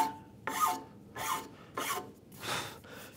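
A file rasps back and forth across wood while a saw handle is shaped at a workbench, four distinct rough strokes in an even rhythm, close and clear with no talk.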